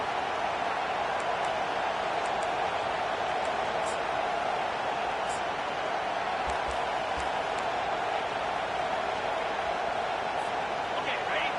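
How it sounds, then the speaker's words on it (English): A packed football stadium crowd roars loudly and without a break as the home defense tries to force a fourth-down stop, a dense and steady wall of noise from start to finish. "This crowd busting the decibel meter and trying to will a fourth down stop."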